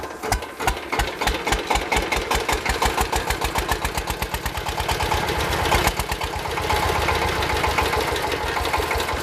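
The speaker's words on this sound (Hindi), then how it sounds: "बायोगैस से जो गैस हासिल की गई है उससे ये पीटर इंजन चलाया" Peter engine running on biogas, a steady rapid chugging idle with even mechanical knocks, loud and close, continuing alone without talk.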